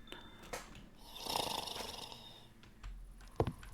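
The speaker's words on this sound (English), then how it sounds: "That's him snoring." A sleeping animal in the Minecraft game gives soft snoring breaths, one drawn-out wheezy snore in the middle and a few brief snorts near the end, faint and heard on its own.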